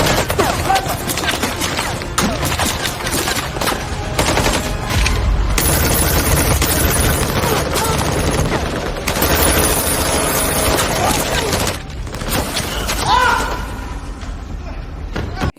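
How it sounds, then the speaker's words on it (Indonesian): Sustained gunfire from a gunfight in an action film fills the scene with rapid, dense bursts of shots and impacts, loud and continuous for most of the stretch, with voices heard among the shots. "baku tembak pun tak terhindarkan"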